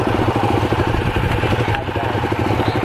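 A Ducati Diavel Carbon motorcycle engine idles close by, a steady, dense low-pitched rumble with a fast even pulse that holds through the whole stretch.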